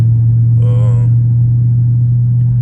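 A Dodge Charger Scat Pack cruises with a loud, steady low engine drone heard from inside the car, with a brief voice sounding near the start.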